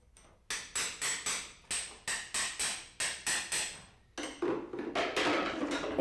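Tools strike a horse's shoe during removal: a steady series of about a dozen sharp metallic blows, followed by a louder stretch of scraping and grinding, with no talk.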